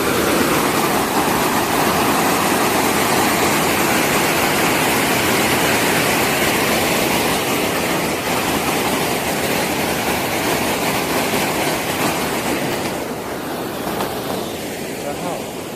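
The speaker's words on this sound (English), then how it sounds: "It said it was waterfalls, not dam and waterfalls." Water pours steadily over a dam waterfall, a loud, dense, unbroken rush that stays constant throughout and eases slightly near the end.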